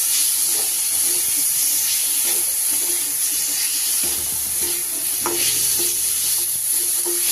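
Finely chopped tomatoes sauté in a pan for chicken do pyaza, a constant loud hiss of frying with occasional scrapes and stirring knocks, no talk.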